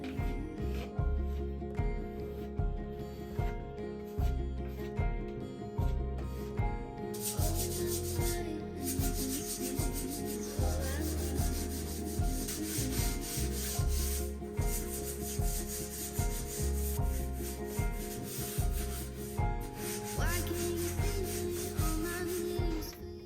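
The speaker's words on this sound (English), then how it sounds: "once it was dry, I sanded it smooth" Dried spackle on a closet wall being sanded smooth by hand, a steady rhythmic rasping scrape repeating in regular back-and-forth strokes, close and alone.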